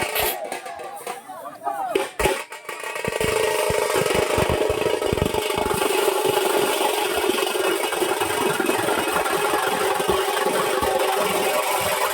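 A tractor engine idles steadily ahead of a village deity procession, a continuous loud mid-pitched rumble that starts after a few seconds of quieter crowd noise and holds to the end.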